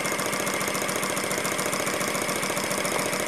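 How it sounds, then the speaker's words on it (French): An English steam-powered fire pump engine runs steadily, giving a dense, continuous rhythmic chugging and mechanical clatter at close range, with no talk. "cette machine est très fonctionnelle à la vapeur"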